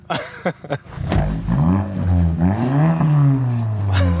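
A dream car's engine revs hard, rising and falling in pitch over a few seconds after some short bursts at the start, loud and close, with excited voices nearby.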